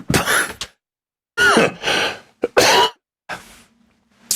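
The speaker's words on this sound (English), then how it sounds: "I had a little cough there." A man gives several sharp, harsh coughs and throat-clearing bursts close to the microphone, separated by silent gaps, with a brief faint hum near the end.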